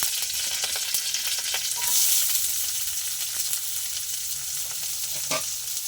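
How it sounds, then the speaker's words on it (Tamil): Mustard seeds and curry leaves sizzle and crackle in hot oil in a pan, a steady frying hiss broken by sharp pops and a few stirring scrapes, close and without voices. "கடுகு நல்லா பொரிஞ்சதும் கருவேப்பிலை ஆட் பண்ணிக்கோங்க."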